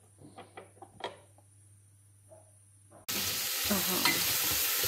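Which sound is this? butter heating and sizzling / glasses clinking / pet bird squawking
butter heating and sizzling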